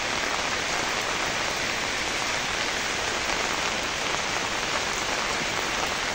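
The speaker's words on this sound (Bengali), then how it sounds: "বৃষ্টি এখনো পড়তেছে, আমার মাথায় ছাতা আছে" Steady, dense rain falls continuously at an even volume, making a close, wide hiss with no talking.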